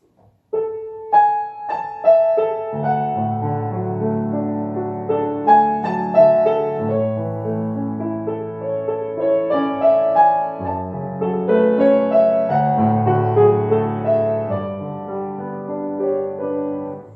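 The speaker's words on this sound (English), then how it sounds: "It's quite a lyrical, romantic theme, and it's got what I call big leaps in the tune." A slow, lyrical melody with wide leaps rises over sustained chords, played smoothly and continuously with a gentle, romantic feel.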